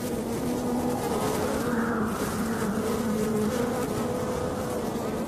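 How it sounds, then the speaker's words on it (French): Worker honeybees in a disturbed hive give off a steady, dense buzzing drone with a low hum throughout, close and continuous, with no voices. "Un son qu'on appelle le chant des abeilles ouvrières, qui est un signal d'une ruche perturbée."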